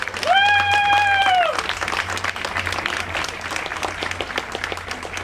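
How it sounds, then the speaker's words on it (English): At a school's 125th anniversary ribbon cutting, an audience applauds County Commissioner Brendan Gill. A loud whoop rises over the clapping at first, then the dense clapping continues steadily and slowly tapers. "Let's give Brendan Gill a big round of applause."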